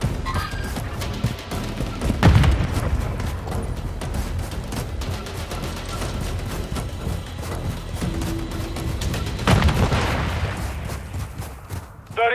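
In Modern Warfare III, a frag grenade blast booms amid a steady stream of gunfire, with a second heavy explosion later and dense firing throughout, loud and close.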